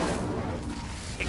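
Incendio spell cast in a Hogwarts video game, a short loud whooshing burst of fiery magic with a rumbling body, brief and close, with faint game effects fading at the end.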